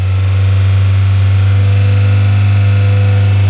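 Kia Spectra 2.0-liter four-cylinder engine, a 2004 EX, held at open throttle after a Seafoam treatment, giving a loud, steady, unbroken drone with a strong low hum and no voices over it.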